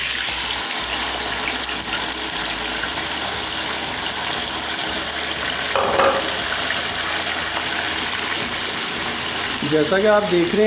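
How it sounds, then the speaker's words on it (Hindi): Chicken sizzling in oil in a pan for chicken karahi, a steady dense frying hiss throughout, with a brief burst of talk near the end over the sizzle. "चिकन डालते हैं और चिकन को फ्राई करते हैं"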